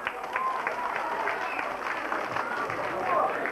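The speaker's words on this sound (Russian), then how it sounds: "Аплодируем" Audience applause at a small-town beauty pageant in Chernushka, 2005: steady, dense clapping from a crowd lasting throughout, with talk audible underneath.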